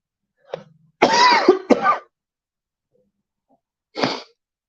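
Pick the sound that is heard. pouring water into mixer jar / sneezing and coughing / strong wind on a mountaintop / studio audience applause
sneezing and coughing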